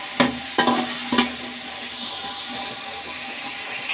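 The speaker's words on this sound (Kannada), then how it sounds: "ಡಬಲ್ ಪೀನ್ಸು ಹಾಗೂ ಬಟಾಣಿ ಹಾಕ್ಕೊಳ್ಳೋಣ. ಈಗ ಹುರ್ಕೊಳ್ಳೋಣ" Double beans and peas fry in oil while a utensil clinks against the pan three times in quick succession, followed by a continuous, moderate sizzle.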